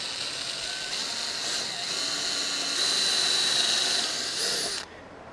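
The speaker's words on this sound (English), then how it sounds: "So what I'm doing here is drilling the most inboard hole, which is also our center hole, and is our pivot hole." A power drill whirs steadily as it bores a pivot hole for a boat bracket bolt, its motor tone climbing slightly under load before it cuts off abruptly near the end.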